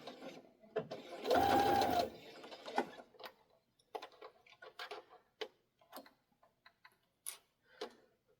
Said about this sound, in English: we will just sew this edge, this side, back stitch and lock it in place here